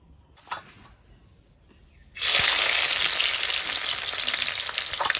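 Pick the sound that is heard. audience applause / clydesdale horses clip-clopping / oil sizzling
oil sizzling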